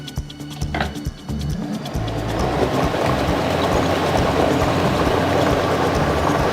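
Balls tumble and rattle inside the drums of a Polish Lotto drawing machine as its locks release and mixing begins, a continuous dense rumbling clatter that grows and holds steady.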